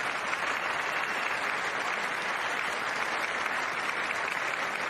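Sustained applause fills a legislative chamber, a dense, even clapping that holds at a steady level for about five seconds without any speech over it.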